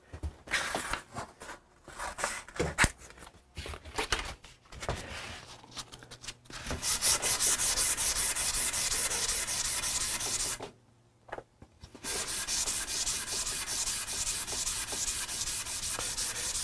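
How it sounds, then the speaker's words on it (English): Flamed maple wood being sanded: scattered scrapes and handling noises at first, then sustained loud abrasive rasping in steady strokes, with a brief pause before the sanding resumes. "Now this is flamed, of course, and does need to be sanded."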